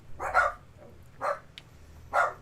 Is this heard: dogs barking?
yes